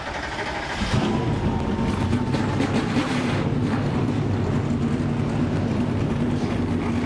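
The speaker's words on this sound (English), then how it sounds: "The engines have fired at Michigan International Speedway." NASCAR Xfinity Series race cars fire their engines at Michigan International Speedway, and after a second a dense, loud, continuous roar of many engines swells in and holds steady.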